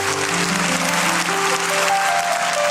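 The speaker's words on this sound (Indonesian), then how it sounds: "Kasih tepuk tangan untuk Tuhan." Church congregation clapping during a Sunday worship service, a dense steady wash of applause over sustained organ or keyboard tones, loud and continuous throughout.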